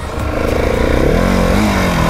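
A Husqvarna 701 Supermoto motorcycle engine revs up loudly and steadily, its pitch rising and then settling, close by and continuous.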